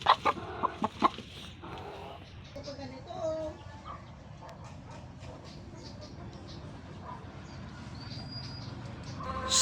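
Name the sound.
native chicken hen clucking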